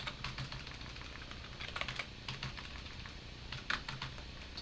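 Typing on a computer keyboard, soft irregular clicks and bursts of keystrokes over a low steady background hum, close but quiet, with no voices.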